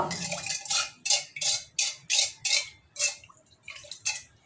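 A spoon mixes agar agar powder into a sugared lychee drink, giving a steady run of about ten rhythmic scraping clinks against the container, close and fairly soft, with no talking.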